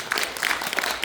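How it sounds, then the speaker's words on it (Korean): Brief applause rises from the audience at a Korean academic conference on designating the Yeosu naval command site as a national heritage site. The clapping is scattered and moderately loud, lasting about a second. "박수 한번 주십시오."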